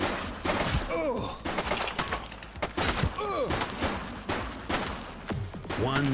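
Repeated gunfire bursts from the police video game The Precinct, sharp cracks and volleys spread through a busy firefight, with a voice calling out between shots.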